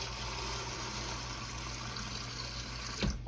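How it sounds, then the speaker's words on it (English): Tap water running steadily into a pot for cooking beans, a continuous hissing splash at moderate level, with a short clunk near the end. "We're going to fill this up, the water up in here until we see the water come up."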